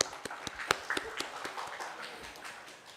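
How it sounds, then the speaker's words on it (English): Scattered hand claps from an audience at a university event honouring committee members, heard as sparse, uneven sharp slaps at moderate distance rather than a full dense ovation. "Please give a round of applause to all the committee members."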